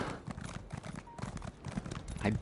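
Horse hooves clip-clopping in the online game Elder Scrolls Online, a steady quick rhythm of soft thuds running throughout at moderate level over faint game ambience.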